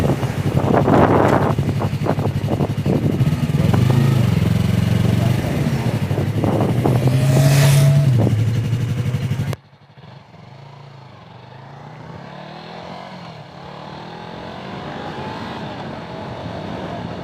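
Engine and wind roar from a white 2019 Yamaha R3 motorcycle on the move, loud and steady with rising revs for the first nine seconds, then dropping to a softer, muffled cruising hum.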